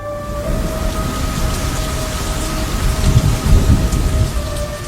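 Heavy rain pours steadily onto surfaces during a thunderstorm, a loud continuous hiss with low rumbling thunder swelling near the end.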